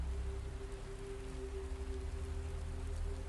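Steady rain falls as an even, continuous hiss of drops on surfaces, close and moderately loud, with a low hum underneath and no voices.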